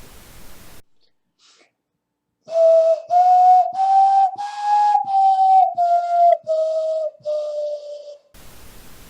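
A hollow, breathy whistle made with cupped hands plays a short melody in separate phrases, the pitch rising then gently falling, with silence before it begins.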